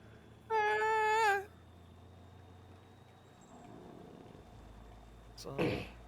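A voice gives a brief warbling, wavering wail imitating howling wind, followed by quiet room noise and a short muffled sound near the end.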